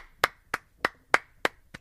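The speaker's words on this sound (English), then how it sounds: "Let's give JP a round of applause." Six sharp, evenly spaced hand claps, close and crisp, at a steady rhythm of about three per second, each a short percussive burst in a quiet room with no talking.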